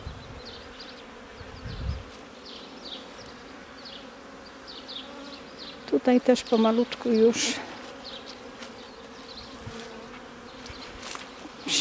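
Steady, close insect buzzing of many honey bees at a hive after winter, a continuous hum, with a brief stretch of quiet speech in the middle.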